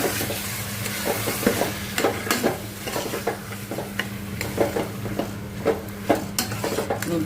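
Mutton stirred and fried in a pan, steady sizzling broken by repeated close scrapes and clinks of a spoon against the metal, with no talking.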